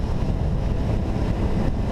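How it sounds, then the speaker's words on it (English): Strong wind buffets the microphone while riding a CRF250R motorbike, a constant loud roaring rush with no talk. "And yeah, it's very windy."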